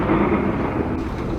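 A deep, rolling rumble of thunder in Bus Simulator Indonesia with a hiss of rain underneath, loud and sustained over a brief moment.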